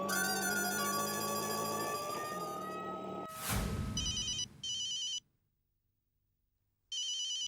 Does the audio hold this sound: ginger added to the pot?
no